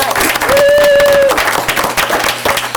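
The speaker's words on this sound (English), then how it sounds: "Let's give Jack a round of applause" An audience at a school district board meeting claps and applauds steadily for a few seconds, loud and close, with a brief tonal whine rising over the clapping.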